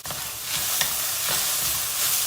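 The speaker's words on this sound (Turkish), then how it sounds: "Domates salçasını iyice bir kavuruyoruz." Tomato paste and peppers fry together in a pan, giving a loud, steady, close sizzle with a few soft scraping stirs and no talking.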